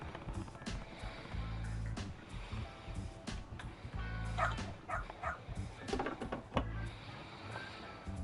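A dog in the video game Lost Judgment barks in a quick run of yips and woofs, soft and somewhat distant, with a few pauses between bursts.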